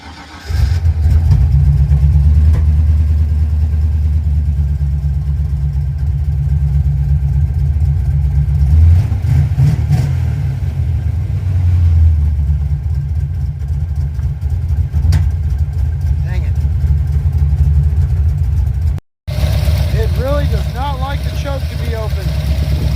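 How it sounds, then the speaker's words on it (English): An engine idles steadily after an Edelbrock 1405 carburetor adjustment. The loud, even, low rumble holds through a brief cut near the end, with a voice heard faintly toward the close. "Adjusted the air input and the idle mixture and the choke, and we've got a rock solid idle now."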